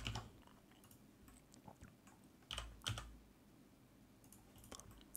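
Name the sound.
computer keyboard shortcuts typed in Blender 3D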